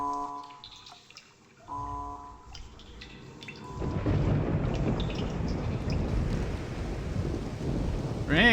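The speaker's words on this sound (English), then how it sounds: "Rain!" In the realMyst video game, heavy rain roars in suddenly after quieter ambient tones, with rumbling thunder underneath, steady and loud through the rest of the stretch.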